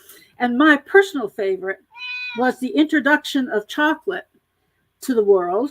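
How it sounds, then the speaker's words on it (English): A house cat gives a single short meow in a brief pause between stretches of a person talking; no clear thud stands out. "That was the cat who did a thud and a meow."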